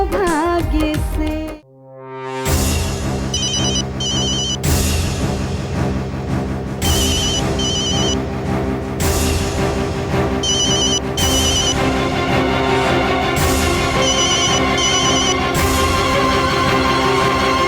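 A loud electronic phone ringtone plays continuously, a repeating melodic pattern with bright chiming bursts, after a brief opening tone and short silence.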